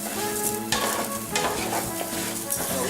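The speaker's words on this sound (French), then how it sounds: "il faut bien recouvrir les grains de riz par l'huile d'olive" Rice grains sizzle and crackle in olive oil for a porcini risotto, a steady close frying hiss broken by the scrape and clatter of stirring throughout.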